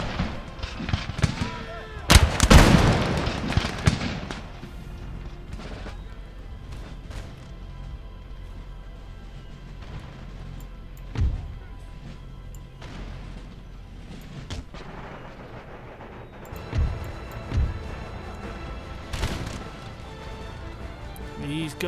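Musket volleys fired by rank in the Empire Total War game, Darthmod, United Provinces: a loud crackling volley near the start, then scattered sharper shots and later rippling bursts over a steady battlefield rumble, with a voice talking at times.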